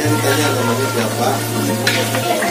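Gourami fish meat frying in hot oil, cooked in the Sundanese style for a traditional wedding in Kampung Gobras. It gives a steady, close sizzle over a constant low hum, with faint stirring and background noise throughout.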